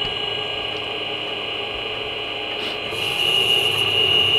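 A mini mill at 417 RPM feeds a half-inch annular cutter straight into metal, giving a steady machining whine and grinding hum that grows a little louder and brighter toward the end as the cut loads up.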